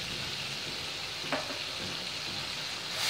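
Masala with ginger paste frying in a pan, a steady close hiss and crackle with one brief stirring clink partway through, rising slightly at the end.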